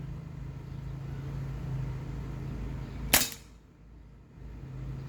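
A single sharp crack from a .43 caliber paintball gun firing a frozen paintball at a target, heard once against a steady low background hum, followed by a brief quieter lull.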